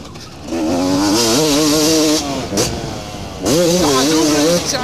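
Motocross motorcycle from around 2000 revving hard as it accelerates, its rising engine note falling away as the bike brakes, then surging again. The engine is loud and close, in two bursts with a short dip between.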